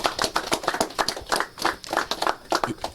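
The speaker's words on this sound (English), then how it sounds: "we should give them a round of applause" Audience clapping at a hospital donation event for an Accident and Emergency Department upgrade, a sparse, uneven patter of a few people's hands with distinct individual claps rather than a full roar, lasting a few seconds.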